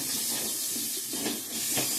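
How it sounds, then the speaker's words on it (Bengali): Water poured into a hot pan of fried spiced masala for a fish curry with taro and potato gives a loud, continuous steaming hiss that swells and fades in waves. "এখন জল অ্যাড করে দিয়ে দেব"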